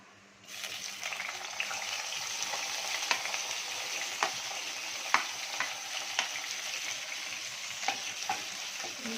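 Chopped onion dropped into hot oil with cumin and mustard seeds, starting a steady sizzle after a brief quiet moment, broken by occasional sharp pops and spoon scrapes in a home kitchen.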